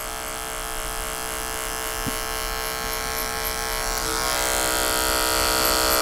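Electric hair clippers buzz steadily up close during a skin fade, run clipper over comb to blend, with the tone brightening slightly toward the end as the blade bites into hair.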